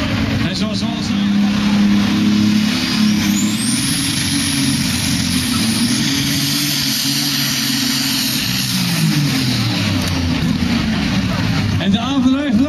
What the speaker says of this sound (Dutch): de motor kwam los van de aandrijflijn, waardoor je hem in toer omhoog hoort